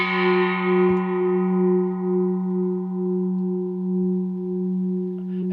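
A single struck bell ding used as a playful sound effect, a clean ringing tone that sustains and slowly decays across several seconds, standing alone with no talk.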